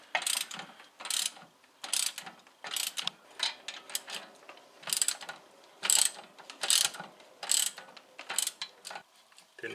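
A ratchet wrench snugging the Bilstein shock absorber bolt on a late Porsche 944, heard as repeated bursts of clicking strokes, close up and fairly quiet, in a steady rhythm with brief pauses and no talking.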